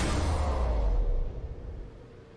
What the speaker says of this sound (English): So the whole ability together, using some Daiko drums, sub stingers, whooshes, and metal impacts, sounds like this.